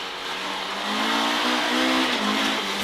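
A rally car's engine revs hard and steadily at close range through a long right-hand corner on a stage of the Donegal International Rally. The tone rises and falls with a gravelly tire hiss, and no one speaks.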